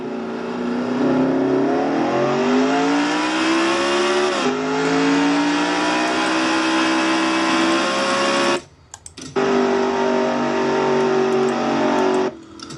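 A race car engine in a racing video game drones steadily at high revs with rising pitch, briefly dropping out twice, loud and continuous with no talk over it.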